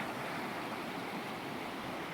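Creek water rushes steadily at a trail crossing of South Harper Creek in Pisgah National Forest, North Carolina, a continuous broadband wash, close and even throughout with no voices.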